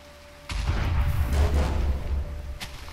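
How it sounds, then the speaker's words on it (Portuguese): TNT blasts in Minecraft, a loud rumbling explosion that swells and fades over a couple of seconds, then a second short boom near the end. "Eu vou spawnar umas TNTs pra explodir aqui"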